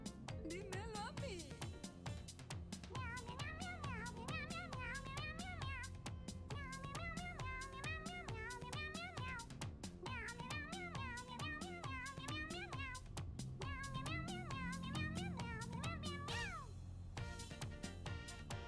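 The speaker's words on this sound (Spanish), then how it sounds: "Hoy me encontré con un gatito. Me dijo miau, no lo entendí." A cat meows repeatedly in Stray, heard over steady game music with rhythmic melodic lines throughout, the meows fairly close and recurring at short intervals.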